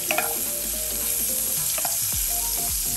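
A tablespoon of butter melts and sizzles in a hot pan as the base of a sauce for sorrel glazed chicken tenders, a steady close frying crackle with a few sharper pops and no talking.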